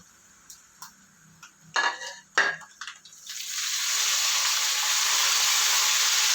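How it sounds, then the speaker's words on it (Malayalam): A utensil scrapes and clinks a few times in a pan of prawn curry, then a steady, loud sizzling hiss takes over as the stirring continues. "നമുക്ക് നന്നായി ഒന്ന് ഇളക്കി കൊടുക്കാം."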